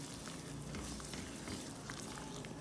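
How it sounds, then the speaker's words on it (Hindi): Boiled minced chicken frying in a pan for a chicken and moong dal dish, a steady dense sizzle and crackle of hot oil with faint stirring, close and continuous without voices. "इसको थोड़ा सा करेंगे फ्राई।"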